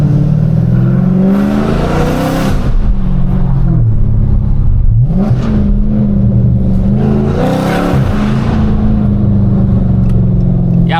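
Dodge Scat Pack engine revving loud and close while driving downtown: a steady, heavy exhaust rumble that swells into two strong climbing revs, each dropping back to a throaty idle-like drone between them.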